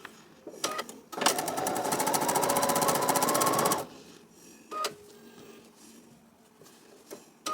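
A sewing machine fitted with a quarter-inch foot stitches quilt rows in one steady, fast burst of about three seconds, followed by a few short clicks and brief handling sounds nearby.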